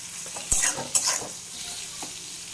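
Tomatoes fry in oil in a pan, softening with salt and sugar, as a spoon stirs them in two sharp scrapes and clatters over a low sizzle, close and alone.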